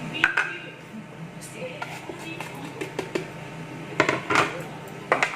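Two egg yolks dropped into a bowl of cassava tape dough for fried donuts, with light clinks and taps of a utensil against the bowl, irregular and close, under someone talking.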